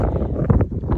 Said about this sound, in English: It's windy, see, I'm holding it down because of the wind.